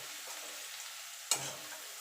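Garlic fries in oil with a quiet, steady sizzle, broken by a sudden louder hiss that flares up and slowly fades back to a soft crackle.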